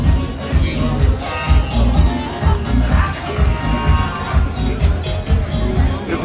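A huge crowd at a carnival parade in Puerto del Carmen, with loud, dense babble and cheering that swells and fades in waves throughout.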